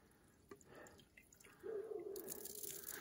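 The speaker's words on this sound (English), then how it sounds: "Pour a little warm water in here." Warm water poured into a frozen hand-operated well pump in winter, quiet drips and trickles giving way to a steady, gurgling pour.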